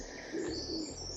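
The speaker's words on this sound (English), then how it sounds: "also just listening to the birds because they're all happy today" Birds sing outdoors on a summer morning, a short soft passage of cooing and light chirps over a faint steady background, with no voices.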